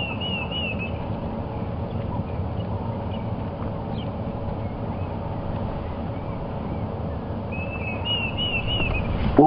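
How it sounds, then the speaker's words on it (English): A Diederik cuckoo calls on a sunrise safari drive in the African bush. Short, high whistled phrases come at the start and again near the end, fairly distant, over a constant low rumble of vehicle and wind. "Oh, I've just heard a Deirdre's cuckoo."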